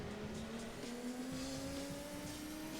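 Race car in Gran Turismo 2 braking hard into a small bend after a long straight, a steady engine drone with faint tire squeal running throughout at moderate level, no voices.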